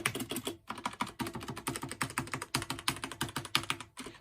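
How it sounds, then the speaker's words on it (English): Rapid, steady keystrokes clatter on an inexpensive computer keyboard, close and clear with a brief pause near the start, continuous typing with no talk. "it is not the greatest sounding keyboard in the world"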